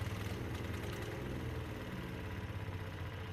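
A touchy All-Power gas engine on a wood chipper runs steadily at a rough idle, a continuous low mechanical drone with faint vibration and no talk over it.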